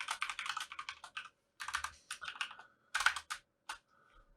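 Bursts of quick keystrokes on a computer keyboard, typed in uneven clusters with short pauses between runs, close and clear with no talking.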